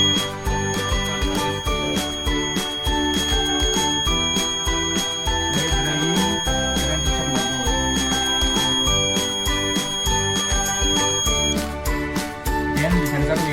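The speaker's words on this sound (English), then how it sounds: "By dripping water on rain sensor module, then the green light will turn off and the red light will turn on and the buzzer will sound." An electronic buzzer on a rain detector circuit sounds as water drips onto its rain sensor module, a continuous tonal electronic buzz with steady harmonics holding for many seconds over faint clicks and handling noise.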